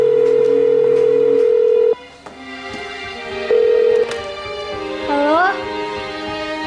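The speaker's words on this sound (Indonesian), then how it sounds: "ada telepon juga yang angkat ya" A loud electronic telephone ring sounds steadily, breaks off, then returns in shorter bursts with a rising warble near the end.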